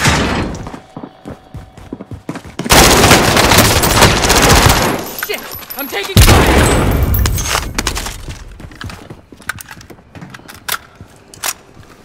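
Heavy gunfire in Call of Duty: Modern Warfare as a window is shot out, with loud sustained automatic bursts and two long dense volleys, then trailing scattered shots and thuds.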